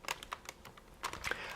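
Keys clicking on an old Sun computer keyboard, a short burst of uneven taps that comes in a clustered run at the end, fairly quiet and close.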